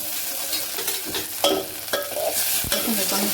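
Coriander leaves and onions sizzle in a hot pan as they are stirred, a constant bright frying hiss broken by close scraping strokes of a spoon.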